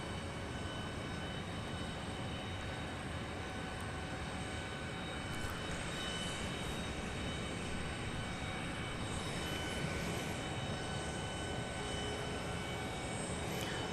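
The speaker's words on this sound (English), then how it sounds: "That aircraft going to Guatemala City, a Cessna Citation Latitude." A Cessna Citation Latitude business jet at Dallas Love Field produces a steady, continuous jet engine roar with a high-pitched whine. The sound stays even and moderately loud throughout, with no one talking.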